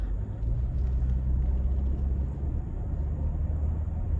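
Audi Q7 Premium Plus engine building revs under acceleration, a steady low rumble heard from inside the cabin, moderately loud and continuous with no talk.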